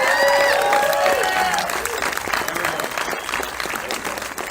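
A festival film screening audience applauds the horror film Ride, dense clapping with some cheering that is loudest at the start and eases slightly over a few seconds.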